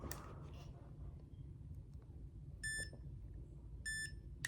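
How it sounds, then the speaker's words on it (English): Two short electronic beeps from a Mini Educator e-collar remote, each a clear high tone, sound about a second apart over a quiet room hum. "It's gonna beep twice"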